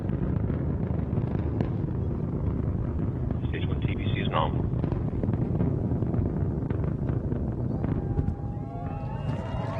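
An Antares rocket's engines roar at full thrust during ascent, a dense, steady low rumble filling the whole stretch while a launch commentator's voice talks over it.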